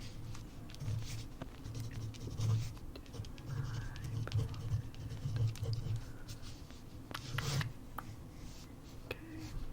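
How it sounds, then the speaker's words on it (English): A simple handwritten message goes onto a craft card, the pen scratching steadily and softly at close range in short strokes and loops, with small pauses between words. "I'm just going to write something simple."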